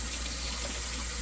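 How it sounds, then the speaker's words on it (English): Cold tap water runs steadily over hands at a kitchen sink during chocolate candy making, a close, continuous hiss and splash with no pauses. "so I'm going to run them under some cold water here"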